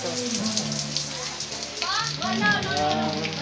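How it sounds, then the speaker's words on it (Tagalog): Steady rain patters and drips on a surface throughout while people talk and call out nearby on a street, their voices mixing with the constant wet hiss. "Tumulo na ang ulan."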